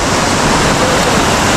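Murky river water rushing steadily near a barangay in Carranglan on a nature trip, a dense, continuous broadband wash with no talk, close and loud throughout.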